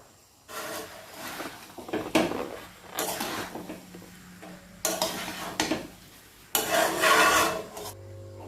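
Mutton biryani with fried onions and ghee being mixed in a pot, four bursts of scraping, rubbing strokes separated by short pauses, close and fairly loud.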